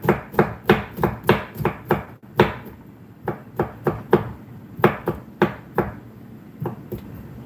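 Garlic chopped with a knife on a board for a fisherman's soup, a steady run of crisp knife strikes in quick bursts with brief pauses, close and fairly loud with no talk.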